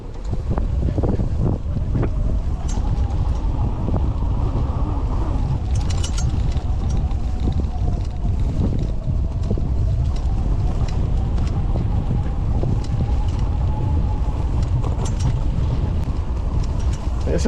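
A fat-tire 8000W electric bike rolls over bumpy ground, heavy wind buffeting mixed with rattling mechanical knocks and a faint rising motor whine, loud and continuous; a voice calls out briefly.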